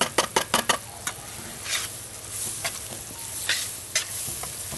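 Green onions, celery and garlic hitting a hot pot for survival gumbo, with a sharp run of quick clinks and scrapes from stirring at the start, then a steady sizzle broken by occasional spoon knocks.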